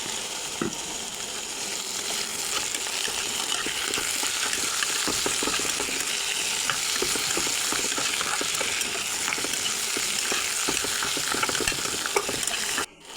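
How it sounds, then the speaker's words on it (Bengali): Potato and tomato fry in a covered pan over medium heat, giving a steady, dense sizzle with scattered stirring clicks throughout, close and alone without speech. "এখন চুলার তাপটা মিডিয়াম রেখে ঢেকে কিছুক্ষণ ভেজে নেব"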